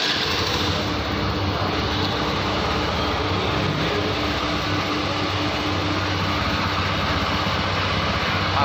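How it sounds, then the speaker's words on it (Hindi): A TVS Jupiter BS6 scooter engine, fitted with its old spark plug, runs steadily for several seconds in a continuous loud, close mechanical drone with no audible stumbles. "पुराना प्लग करने के बाद स्कूटी को स्टार्ट करते हैं।"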